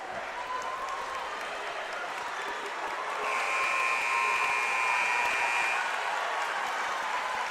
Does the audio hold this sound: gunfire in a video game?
no